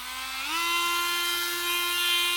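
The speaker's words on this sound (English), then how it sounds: "I'm going to use this to cut one of these screws" A small rotary tool with a cutoff wheel spins up to a steady high-pitched whine while cutting into a screw, loud and close, with the pitch rising briefly at the start and then holding constant.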